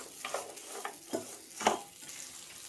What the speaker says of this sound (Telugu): ఈ కారం అన్నీ కలిసిపోయేలాగా మళ్ళీ ఒకసారి ఫ్రై చేసేసుకోవాలి